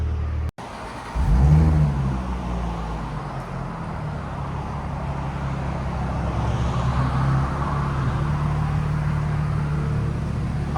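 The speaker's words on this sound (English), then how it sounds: "Sounds really nice. I'll let you guys hear on the inside." Audi S5 with a 3.0L supercharged V6 and aftermarket cat-back exhaust, heard from inside the cabin: the engine starts with a low rumble, then settles into a quiet, steady idle drone.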